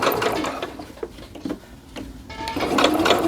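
A sewing machine runs slowly while its feed dogs pull a jogger seam through. Uneven bursts of mechanical whirring and clicking start and stop, with quieter gaps in between.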